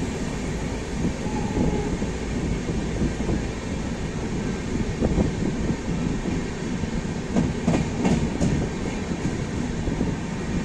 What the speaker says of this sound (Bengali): আর আমাদের ট্রেন এসে পৌঁছলো বিহারের পাহাড়পুর স্টেশনে